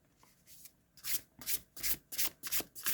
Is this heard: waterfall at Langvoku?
no